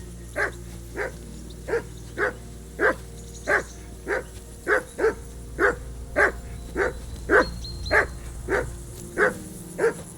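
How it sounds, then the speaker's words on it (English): A dog in Kingdom Come: Deliverance 2 barks steadily, about fifteen sharp, evenly spaced barks over a low game ambience, fairly close and loud with no talking. "that barking's driving me nuts. Can you get your dog to shut its beak?"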